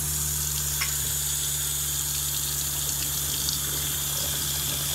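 A faucet in a shuttle bus RV conversion runs hot water steadily with the onboard water pump, giving a constant close hiss and rush over a low steady hum, with no talking.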